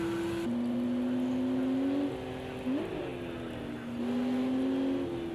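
A PCRC Prototype B race car drones steadily along the straight at Hockenheim, short of full throttle. Its engine note holds fairly level, with brief shifts in pitch, at a moderate distance.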